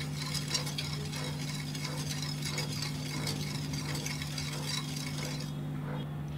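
A spoon stirs cold milk and sugar in a pot, a steady soft scraping and swirling with faint clinks against the metal, continuous and close over a low background hum.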